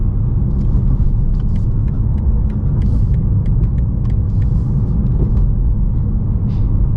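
Inside a 2024 BMW M2, the turbocharged engine drones in a loud, steady low rumble as the car accelerates, with faint clicks and rattles from the cabin over it.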